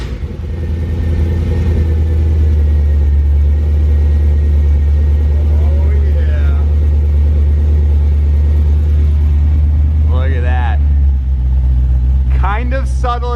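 A V8-swapped Porsche 944 Turbo with an LT1 V8 engine cold starts and settles into a deep, loud, steady idle rumble close by, with a few brief voices over it near the end.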